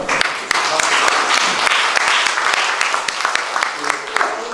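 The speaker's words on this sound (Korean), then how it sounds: "박수 한번 해줍시다." Church congregation applauding at an anniversary and ordination service, a dense steady wash of many hands clapping together, loud and close, continuing for several seconds.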